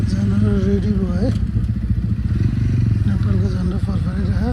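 A TVS Ronin motorcycle engine idles with a steady low rumble, ready to ride a mountain route, while someone talks over it throughout.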